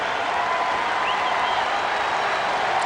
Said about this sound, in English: Crowd starting to get into it again with Ortiz up there leading things off in the 6th inning